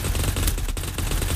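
Rapid gunfire from shooting in the online game Blankos, a dense, continuous rattle of shots filling the whole moment with no talk over it.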